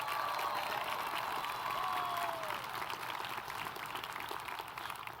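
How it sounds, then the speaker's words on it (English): Graduation ceremony audience gives a big round of applause, a dense continuous wash of clapping across the whole stretch, slowly tapering near the end, with faint cheering tones above it. "Let's give them a big round of applause"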